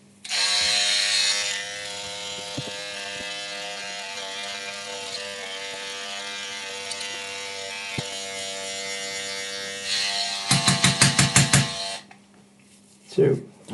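An electric trimmer buzzes steadily while trimming facial hair, a loud continuous whir that dips in tone as it moves over the face, then stutters in quick pulses near the end. A brief click and rustle follow it.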